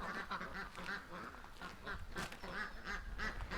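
Muscovy duck male calling with repeated hoarse quacking notes in a steady rhythm, close and fairly loud over outdoor background noise.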